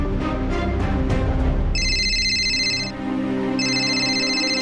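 Electronic ringing tone plays in two bursts, a short pause between them, over faint background noise.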